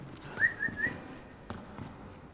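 A person whistles a short rising and falling tune of three quick notes, faint and somewhat distant, over quiet background noise during a Resident Evil 2 Remake gaming session.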